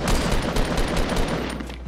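Rapid bursts of gunfire from a Fortnite Battle Royale match crackle loudly and densely, shots overlapping in a quick fusillade that keeps going to the end.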